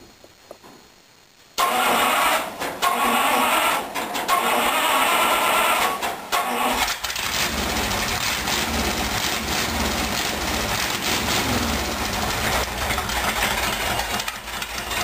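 A hot rod engine cranks briefly, then catches and fires up, settling into a loud, steady, rough idle that runs on for over ten seconds with no voices.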